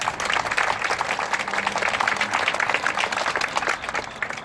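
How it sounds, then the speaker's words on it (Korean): An audience at a Korean teachers' union protest rally claps loudly and continuously, a dense crackle of many hands that holds steady throughout. "큰 박수로 맞이해 주시기 바랍니다"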